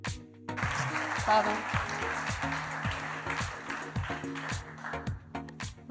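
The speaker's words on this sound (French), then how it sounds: "sous un tonnerre d'applaudissements" An audience at a demo-day pitch event breaks into sustained, loud applause that carries on for several seconds with brief speech mixed in over the clapping.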